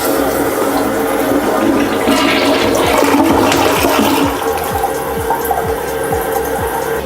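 A household toilet flushes loudly and steadily, water rushing and gurgling through the bowl for several seconds up close, with no voices over it.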